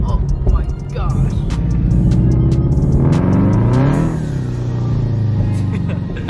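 A Rocket Bunny kitted FRS on stock wheels drives along a dirt road, its engine revving steadily and swelling in pitch before easing off, loud and close, with a voice talking over it.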